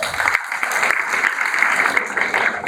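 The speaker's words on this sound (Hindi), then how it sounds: "सो आप सब मिलेनियल्स के लिए एक जोरदार ताली बनती है।" Loud, steady applause from a seminar audience filling an auditorium, many hands clapping continuously and densely throughout with no talk over it.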